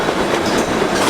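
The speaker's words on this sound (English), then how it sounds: "It is quite loud as the train comes rumbling up the track here." The White Pass & Yukon Railroad train rumbling loudly up the track near Skagway, a close, dense roar of wheels and carriages with faint clickety-clack, brief and continuous.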